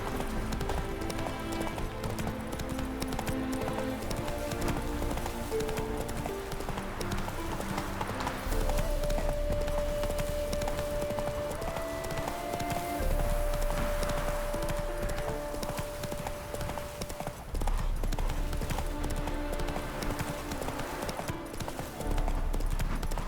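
A horse gallops in The Witcher 3 video game, its rhythmic clip-clop hoofbeats running steadily throughout over background music, with occasional louder stretches of pounding.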